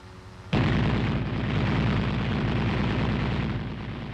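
The .50 caliber machine gun on an M551 Sheridan opens fire with a sudden loud onset, then a dense, continuous rapid stream of close shots that goes on unbroken to the end.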